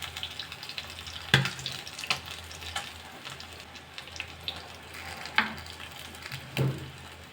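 Sardines shallow-frying over a low flame give off a gentle, steady sizzle, with a few louder clanks and a watery splash now and then, heard close with no talking.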